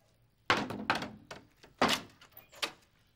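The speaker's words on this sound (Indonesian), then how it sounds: "Apaan sejir lu gebrak-gebrak pintu?" Someone bangs hard on a door in a series of loud, uneven thumps, five heavy blows spread over a few seconds with short gaps, close and with no talk over them.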